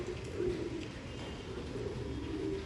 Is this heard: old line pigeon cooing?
yes